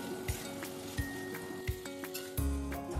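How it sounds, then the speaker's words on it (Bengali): Cut potatoes with salt and turmeric fry in oil with a faint, steady sizzle, broken by several sharp spatula clinks and a louder stir near the end, quiet and close. "এইভাবে আলুগুলো কেটে তারপর আলুগুলো আমি ভেজে নিচ্ছি।"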